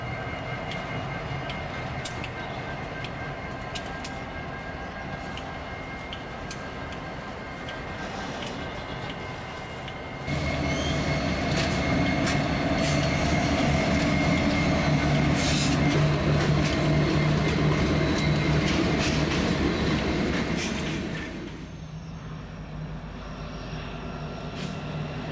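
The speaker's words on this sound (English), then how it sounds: "This train is moving northbound." An empty BNSF grain freight train rolls northbound near Fort Worth, with a steady low rumble of locomotive engines and wheels that swells louder mid-way as it passes close, then eases back.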